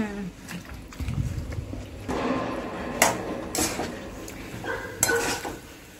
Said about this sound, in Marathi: चला वांगे टाकूया आता.